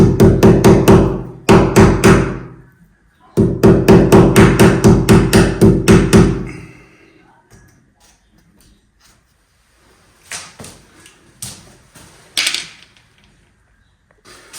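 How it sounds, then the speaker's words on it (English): A hammer drives a nail into a drywall-backed plastered wall, delivering two rapid bursts of sharp, loud, evenly spaced blows separated by a short pause, followed by scattered quieter knocks and scrapes. "if we try to nail it into here, although I'm using a drywall, it's very hard to get it in there"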